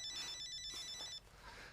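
A telephone ringtone rings in a quiet room, a steady electronic trill that sounds clearly and then cuts off abruptly as it is answered, leaving faint room tone.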